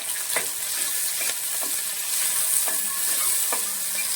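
Shallots and green chillies sautéing in a pan for an okra masala, a steady sizzle of frying with irregular scrapes and stirring clicks from a utensil, close and alone with no talk.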